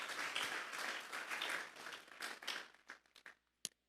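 A church congregation claps together as an offering of praise to God during a Sunday sermon, a dense sustained burst of applause that thins out into a few scattered, isolated claps at the end.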